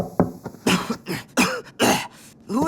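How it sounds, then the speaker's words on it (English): Several harsh coughs and throat-clearing bursts in quick irregular succession, close and loud, with short pauses between. "you're coughing."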